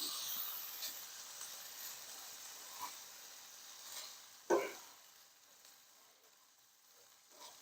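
Beef fries in a pan while making beef stroganoff, a soft continuous sizzle with occasional pops and one louder scrape or spatter midway, faint and steady with no voices.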